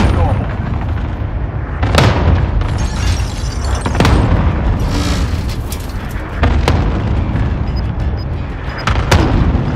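Cluster strike explosions in the Warzone battle royale game on Rebirth Island, a continuous barrage of heavy booms and blasts rolling on for several seconds, loud and close, with voices talking over the din.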